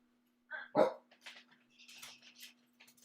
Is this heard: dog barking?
yes